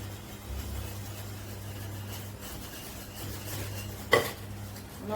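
Milk stirred in a pot while cooking down for kunafa cream, a faint steady scraping swirl with a low hum underneath and one sharp clink of utensil on metal near the end, quiet and without talking.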